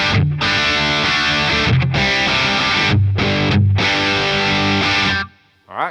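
Crunchy, distorted electric guitar chords through a Boss Katana 100 Head MKII amp's crunch setting strum in loud rhythmic bursts with short gaps, then stop abruptly before a brief final scrape.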